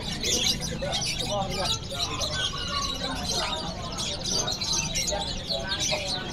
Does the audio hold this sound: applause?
no